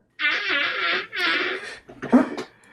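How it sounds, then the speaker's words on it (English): A comic fart sounds during a cooking session over Doritos spaghetti and bacon meatballs. Two long, strained, buzzing blasts are followed by a broken, sputtering tail, loud and close. "You're farting on the Doritos spaghetti and bacon meatballs?"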